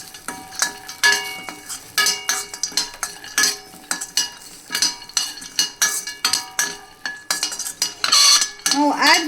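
Nuts stirred in a pan of ghee, with a steady run of metal spoon clinks and scrapes against the pan in a quick, irregular rhythm, over a faint background sizzle.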